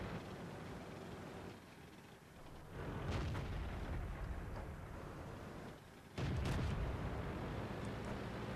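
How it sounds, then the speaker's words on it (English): Enemy artillery fire in a tank video game arrives as deep, rumbling booms that swell over a constant low roar, with two heavy impacts several seconds apart. "We are being pummeled by enemy artillery."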